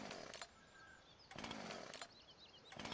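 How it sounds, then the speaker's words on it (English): A chainsaw in Farming Simulator 17 buzzes in repeated surging bursts with short dips between them, close up and fairly steady, with no talking. "Excuse my chainsaw."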